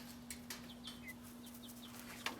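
Faint chickens cluck softly now and then while pecking at chick food outdoors, with small scattered taps over a steady hum and background hiss.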